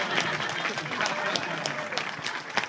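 At a presentation, an audience claps in a short burst of scattered applause, a dense patter of many hands at moderate volume.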